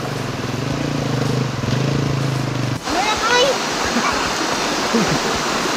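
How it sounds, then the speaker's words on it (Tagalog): Loud, continuous rush of a clear river current in Barangay Duruarog, Diadi, Nueva Vizcaya, a low droning hum over it for the first few seconds, then open water noise with scattered splashes and brief voices. "tignan nyo yung ilog. Ganda nung agos niya oh"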